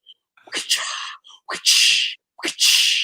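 A voice imitates the echoing whip crack of a baseball home run hit, giving a few sharp hissing bursts, with breathy sounds between them.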